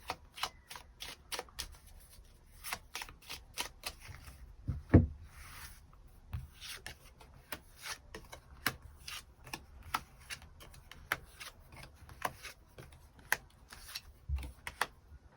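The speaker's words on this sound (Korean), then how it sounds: "추가 카드 뽑아보도록 하겠습니다" Tarot cards shuffled and drawn by hand, a quiet run of quick papery riffles and flicks with irregular taps and one sharper knock, close and soft, with no talk.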